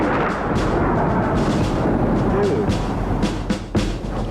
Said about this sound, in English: we're going to see if the rocket they were going to launch at us actually would have been effective and efficient by launching it just downrange